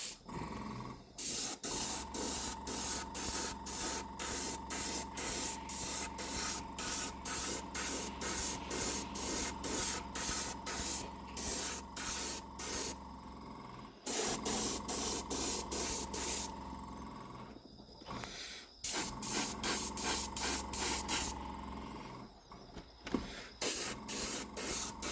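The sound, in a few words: spraying grime wash onto Jouef Z2 model train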